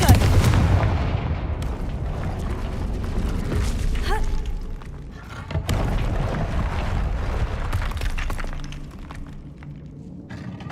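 A Confringo fire spell from Hogwarts Legacy goes off in a string of heavy explosive booms and blasts, with rumbling impacts and crackling debris over game ambience.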